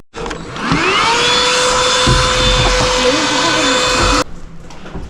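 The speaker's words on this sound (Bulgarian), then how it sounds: "Продължаваме с прахосмукачката." A vacuum cleaner runs inside a Chevy Camaro SS 6.2, starting up with a rising whine and then droning loud and steady before cutting off abruptly near the end, with faint bumps of the nozzle along the way.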